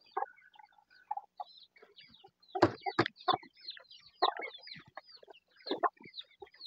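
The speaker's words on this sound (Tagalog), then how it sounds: "hiwa-hiwalay po ang pagpapakain natin ng sisiwat" Chicks on a small farm keeping rabbits and chickens are fed, with soft clucks, peeps and sharp pecking taps scattered irregularly and close by.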